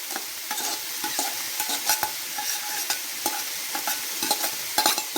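Small-chopped onion goes into a pan of browned meat, frying with a steady close sizzle while being stirred, with repeated scraping and clinking knocks of the spoon throughout and no talk.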